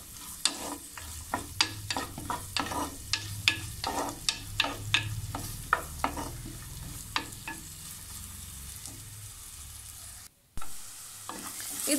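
Ginger sautéing in a pan for raw plantain curry, a soft sizzle under a rapid series of sharp spatula scrapes and taps that thin out, followed by a brief silence and the sizzle returning.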